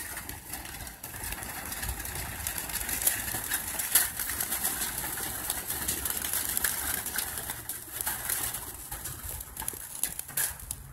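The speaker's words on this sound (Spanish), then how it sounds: "Para que todo el mundo vea cómo salgan las palomas." Flock of about 400 racing pigeons released at a club training toss on a cloudy, cool day, a continuous flurry of wingbeats and fluttering held at steady moderate loudness throughout, with no talk.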